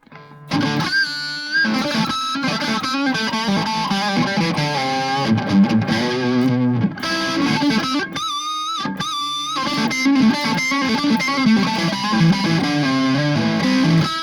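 Electric guitar played through MXR Custom Badass '78 Distortion and MXR Classic Distortion pedals, a continuous loud distorted riff of chords and single-note lines with a brief drop near eight seconds.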